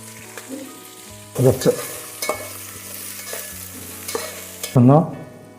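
Spices and green chillies fry in a pan with a close, crackling sizzle. Bursts of stirring and spattering come at irregular moments, and no one speaks.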